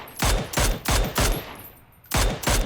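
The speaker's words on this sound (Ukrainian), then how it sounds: "там ще десь драгунов біля нього стріляє" Dragunov sniper rifle fire in PUBG on the Karakin map: loud, sharp gunshots in quick succession, about five cracks with short gaps, close and alone with no talk.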